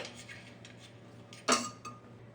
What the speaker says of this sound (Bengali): আমি প্রেসার কুকার নিয়েছি বন্ধুরা, এটা খুলে নিলাম।